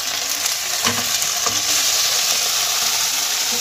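Onion with crushed garlic, ginger and green chili fries in a pan, a steady close sizzle broken by a few scraping stirs of a spatula, no voices.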